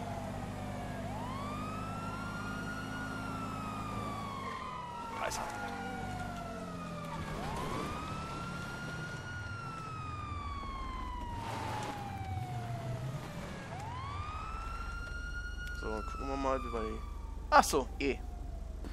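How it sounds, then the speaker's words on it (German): A police car siren in the video game GTA V Online wails in long rising and falling sweeps over engine rumble, with someone talking briefly over it and a few sharp clatters near the end. "Wie mache ich denn die Sirene aus?"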